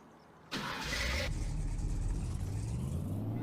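Truck engine in the farming game Farming Simulator 25, cranking to life after a quiet moment, then settling into a steady, low, rumbling idle close by, with no talk over it.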